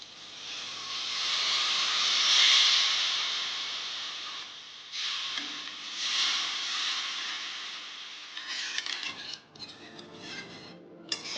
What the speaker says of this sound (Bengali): ঝোলটা ফুটে উঠেছে আর একটু ফুটিয়ে নেব ঝোলটা